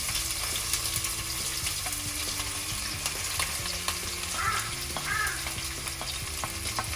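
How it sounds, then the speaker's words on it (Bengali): Onions sizzle steadily in hot oil for a chicken korma, with a spoon scraping and stirring through the pan in irregular strokes, close and continuous with no talking. "কয়েক সেকেন্ড ভাজা পরে আমি পেঁয়াজ কেটে দিয়ে দিব।"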